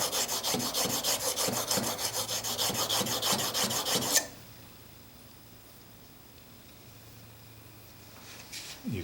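Plane blade sharpened on a sharpening stone, rapid rhythmic back-and-forth rasping strokes close by for about four seconds, then quiet.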